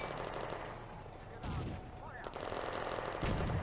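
Gunfire in the World War II Eastern Front video game Firefight, with distant crackling shots and heavier thuds under a constant background rumble, fairly faint overall.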